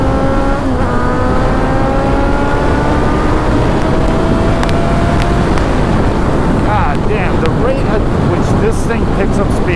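Honda CBR sport bike pulling hard through the gears, the engine note rising and dropping with each shift under heavy wind buffeting, loud and close from the rider's position.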